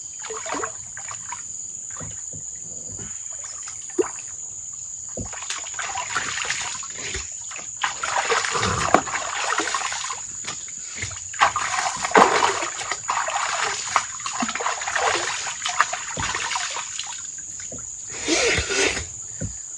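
Splashing in river water running through a garden, irregular near splashes and trickles over a steady background hiss, with intermittent bursts of heavier sloshing.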